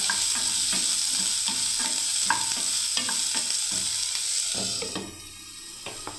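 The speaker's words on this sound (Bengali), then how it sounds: "এই তেলেই হয়ে যাবে বেগুন ভাজা।" Eggplant frying in hot oil in a pan already used for bitter gourd, a continuous close sizzle with repeated stirring scrapes, dying down toward the end.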